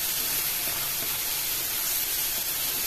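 Spice paste and water frying hard in a pan for a Bengali dhokar dalna, a dense, even sizzle and hiss that fills the whole moment without a break.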